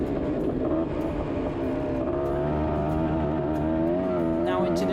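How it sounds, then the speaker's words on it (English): A Honda ATC 250 three-wheeler held flat out down a dirt track's front straight, its engine a loud, steady roar running the whole time with a shifting pitch, and a commentator's voice partly over it. "Down the front straight he goes, flat out on the gas on board his ATC 250."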